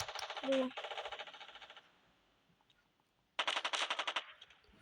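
Automatic gunfire from the video game SFG3: a long rattling burst, a pause, then a second rapid burst, loud and close, with no talking over it.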